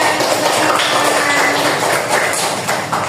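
Children in a classroom clap together in applause, a dense, steady patter of many small hand claps that stays loud and even for the whole stretch, with no talking over it.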